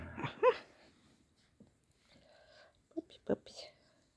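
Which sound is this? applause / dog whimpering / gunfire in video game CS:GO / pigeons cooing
dog whimpering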